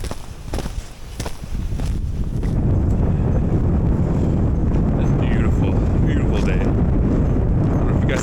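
Strong outdoor wind buffets the microphone at a playground on a winter day, a steady loud roar of gusts that builds after the first couple of seconds and stays continuous to the end.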